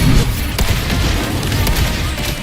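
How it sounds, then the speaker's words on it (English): A mortar shell explodes in Wuthering Waves combat, a dense, loud rumbling blast that fills the whole moment with sustained boom and debris noise, without a clean attack. "Another mortar thrown at us."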